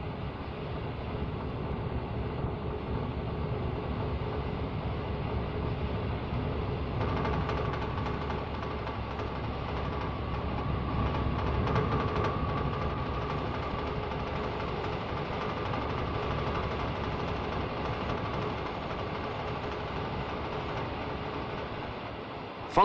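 A 1965 British Rail electrification equipment train on the West Coast Main Line runs with a steady, loud mechanical rumble and engine drone, continuous throughout with a slight swell midway, no voices.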